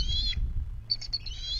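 Shrill, harsh squawks from eagles near their nest, calling in two short bursts with a brief pause between, heard clearly over low background rumble.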